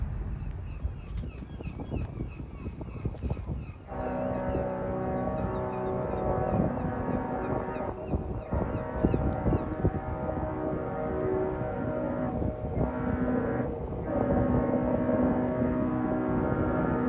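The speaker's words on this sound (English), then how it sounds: "The Hurtigruten cruise ship is coming in." A deep, sustained ship horn-like drone hums steadily under wind and outdoor noise, with a few brief sharp knocks early on, as a Hurtigruten cruise ship arrives at a pier in Vardø, Norway.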